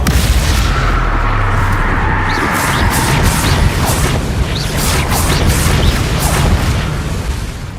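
Repeated spell explosions in Hogwarts Legacy, heavy booming blasts and crashing impacts layered over a continuous loud rumble of in-game combat.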